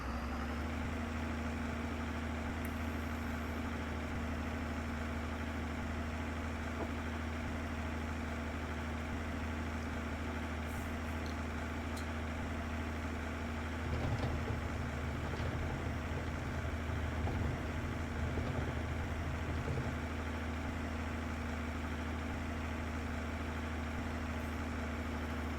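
A slow tractor engine in Farming Simulator 22 drones steadily throughout, a constant low idling hum with faint mechanical clatter rising briefly midway, no voices.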